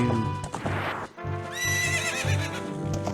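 A horse in the video game The Legend of Zelda: Ocarina of Time whinnies loudly over rhythmic clip-clop hoofbeats, with game music playing beneath.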